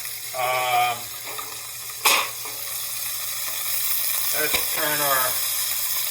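Pork shank being turned and frying in a pan, a loud steady sizzle with a sharp clatter as the meat is flipped and a few scraping sounds, close up with faint voice-like tones in places.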